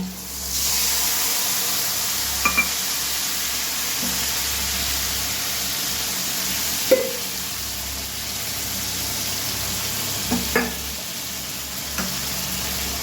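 Mustard and green chilli paste going into a hot pan after black cumin for a mustard-coconut hilsa curry, giving a continuous steady sizzle broken by a few sharp clinks of utensils.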